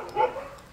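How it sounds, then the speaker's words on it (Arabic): Dogs at a large pet shelter in Phuket on a rainy day, heard as a brief, moderately close bark or whimper-like yelp that rises and fades within a second, with no one speaking over it. "سامعين الكلاب يا جماعة؟"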